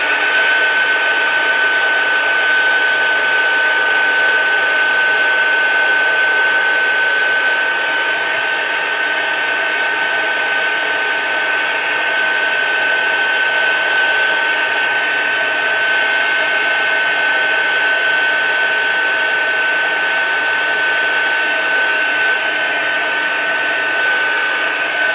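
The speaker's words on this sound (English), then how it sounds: "I'm going to turn back on my heat gun." Heat gun blowing hot air over embossing powder, a steady loud whooshing hiss with a fixed whine running unbroken through the whole stretch, no voices.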